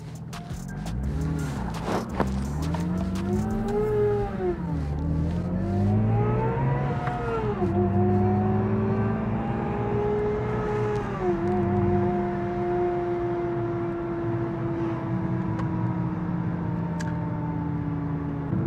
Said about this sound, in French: on va faire un tour avec la voiture